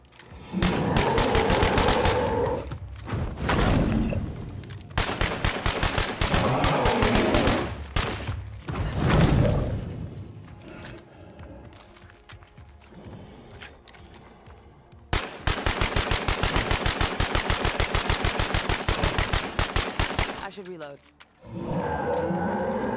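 Rifle gunfire in the zombie survival video game State of Decay 2: long rapid automatic bursts, loud and close, broken by short pauses and quieter stretches.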